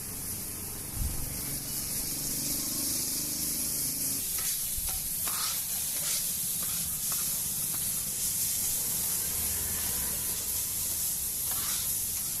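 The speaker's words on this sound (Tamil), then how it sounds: "நல்லா ஆயில் ஊற்றி நல்லா ஸ்ப்ரெட் பண்ணி கிண்டிக்கலாம்" Onions and curry leaves fry in oil on a hot stone while being stirred, producing a continuous bright sizzle and hiss with scraping stir strokes, close and steady throughout.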